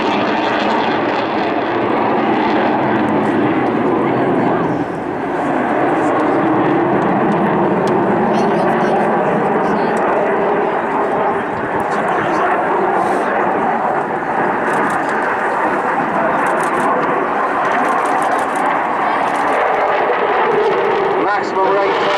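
An RAF Typhoon FGR4 fighter jet performs at the Blackpool Airshow, its engines giving a loud, sustained roaring rumble that swells and fades slightly as it manoeuvres overhead, with an announcer talking over it.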